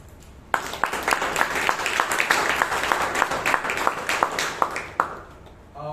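Audience applause at a Toastmasters meeting in Bangalore: a short burst of moderately loud clapping from a small group, distinct individual claps running for about five seconds before fading out.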